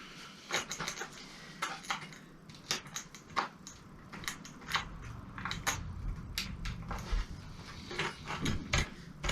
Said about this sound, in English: the best thing about the silver skate tool is that it's a ratchet